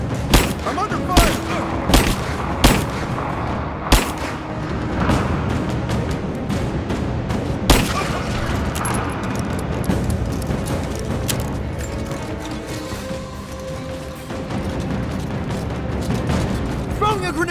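Gunfire in the Rise of the Tomb Raider video game: a series of sharp shots and booms early on, then a rumbling battle din with scattered impacts under shouting voices.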